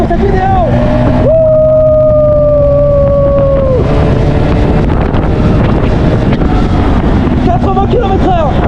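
Strong wind roars over the microphone as a motorcycle rides fast down winding roads in El Salvador, with the engine's whine rising and falling in pitch, loud and close.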